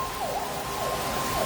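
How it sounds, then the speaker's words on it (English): A wailing ambulance or emergency vehicle siren rises and falls repeatedly during a heavy rainstorm in Carlisle, heard through constant loud rain and rushing water. "there goes the ambulance or emergency vehicles"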